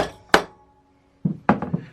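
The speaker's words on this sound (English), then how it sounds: "A few light taps with a hammer" Light hammer taps on a BMW R1150RT motorcycle engine part near the camshaft sprocket during a restoration: one bright metallic clink, a pause, then a quick cluster of four or five close, ringing taps.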